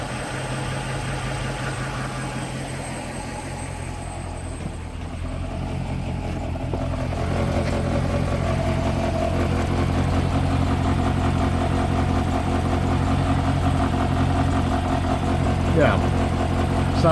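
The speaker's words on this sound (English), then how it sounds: "baffle shaking itself loose in the exhaust" A 1972 Range Rover engine idles steadily with a continuous low rumble and a buzzy metallic rattle from a loose exhaust baffle running through it; people talk now and then over it.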